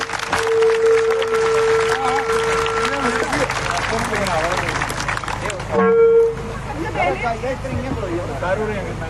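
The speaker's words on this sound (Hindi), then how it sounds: "जोरदार तालियां हैं" An outdoor crowd at a ground in Gandhi Nagar, Jammu, claps loudly for Mayor Rajinder Sharma. The applause is dense and sustained, with a steady tone and babble running through it and a brief louder burst near the end.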